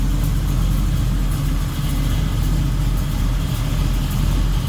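A 1968 Chevrolet Camaro V8 with a Holley 4-barrel carburetor, an Edelbrock intake and aluminum Edelbrock Performer RPM heads idles nearby in a constant, loud, low rumble with no pauses and no voices.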